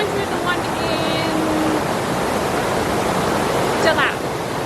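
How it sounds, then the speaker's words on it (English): Steady broadband rush of a waterfall in the Lake District, loud and continuous throughout, with faint bird chirps above it and no clear talk. "Made it to the waterfall, first one."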